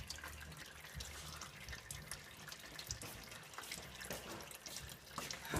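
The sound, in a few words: transmission fluid draining into catch pan, First Gen Cummins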